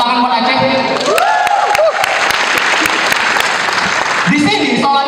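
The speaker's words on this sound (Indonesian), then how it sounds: "Tepuk tangan buat Aceh." A live comedy show audience applauds and cheers loudly and steadily through the whole stretch, with a voice rising over the crowd noise.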